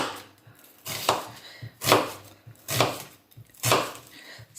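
Knife slicing vegetables for tabbouleh on a wooden board, four firm, evenly spaced chopping strokes close by with small taps between them, no talking.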